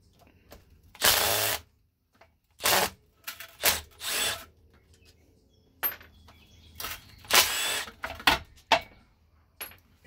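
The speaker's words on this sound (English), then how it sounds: "Another thing about the Milwaukee is it keeps the head of the bolts looking like brand new." A Milwaukee impact gun removes bolts from a Kawasaki KE102 motorcycle in a string of short, sharp, close bursts separated by quiet gaps.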